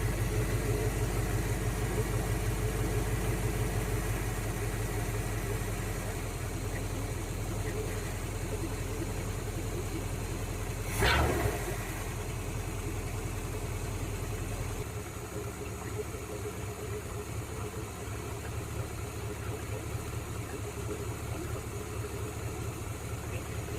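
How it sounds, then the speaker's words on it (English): Ford F100 pickup engine idling steadily after a carburetor tune, a low continuous rumble with a brief rev near the middle, close by, with a voice talking over it. "Now we need to set our base idle."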